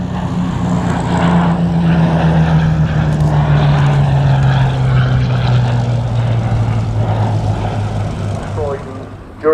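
Hawker Hurricane propeller fighter flying past at an airshow, a loud droning engine whose pitch slowly falls as it passes, with a voice talking over it.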